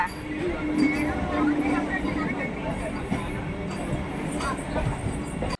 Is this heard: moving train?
yes